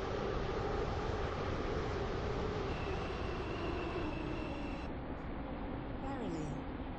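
A video-game train pulls into a station, a steady broad rumble of wheels and motor holding close and loud throughout, with a faint tonal whine easing down near the end.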